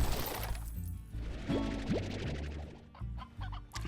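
Synthetic chicken clucks from the video game Slime Rancher sound in short bursts over a low game-style music bed, with electronic tones and a few quick effects.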